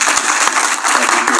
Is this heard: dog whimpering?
no